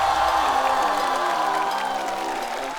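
A studio audience at a stand-up comedy competition applauds and cheers to welcome comedians, a dense, steady wash of clapping that holds loud throughout and eases slightly near the end, with faint music beneath.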